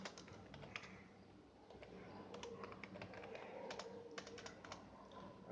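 Fingers type on a computer keyboard, entering data into accounting software, giving quiet irregular bursts of crisp key taps close to the microphone with brief pauses between them.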